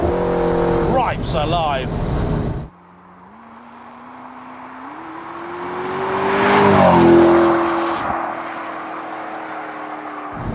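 A McLaren 650S supercar accelerates hard in second gear, its engine note climbing steadily in pitch to a loud peak, then settling into a sustained drone; someone speaks briefly over it before the pull begins.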